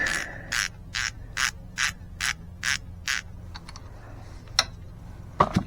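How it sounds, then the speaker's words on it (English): A ratchet wrench clicks through a run of about eight quick, evenly spaced bursts, then a few scattered metallic clicks, while a bolt is loosened on a Honda GL1500 Goldwing motorcycle during timing belt and tensioner work. The sound is close and clear. "I'm going to do it the easy way, which is going to be remove this bolt here."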